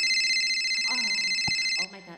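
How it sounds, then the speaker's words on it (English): A mobile phone rings with a steady, bright electronic ringtone held at an even level under overlapping voices, then cuts off abruptly near the end. "Oh my God, my husband calling me."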